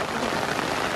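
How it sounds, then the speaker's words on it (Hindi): Steady monsoon rain falls on a campsite near Bangalore, a dense, continuous patter on tents and ground with no pauses, close and fairly loud throughout. "बारिश हो रही है"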